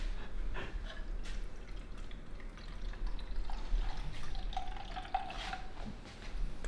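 Water trickles and splashes while being poured into a measuring cup in a kitchen, a soft uneven stream with small drips, fairly close and quiet.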